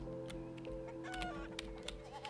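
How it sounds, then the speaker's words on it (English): Chickens wander loose inside a barn in a video game, giving scattered soft clucks over a steady tonal background of game music and ambient hum. "I like all the chickens are just loose everywhere."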